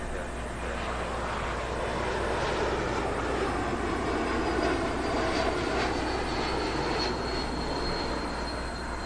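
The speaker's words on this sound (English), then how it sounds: "Great looking jet, the A220." Airbus A220 jet airliner at London Heathrow Airport, a steady broad engine roar heard from a distance, lasting throughout, with a faint rising whine and a voice talking over it at times.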